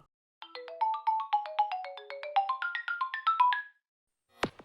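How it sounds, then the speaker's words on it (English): A phone ringtone built from the Nintendo GameCube intro sound plays a clear, bright run of quick chiming notes for about three seconds, followed by a short sharp click. "It's the intro sound from the Nintendo GameCube!"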